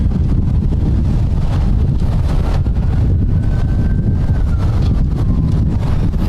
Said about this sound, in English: But it's windy and it's hot.